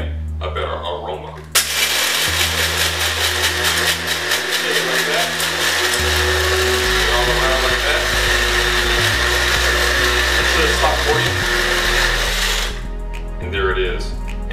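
Whole coffee beans whirring in an electric blade grinder for a reusable Keurig K-Cup, a loud steady motor buzz with rattling beans that shifts pitch as the grinder is shaken, running about eleven seconds before stopping.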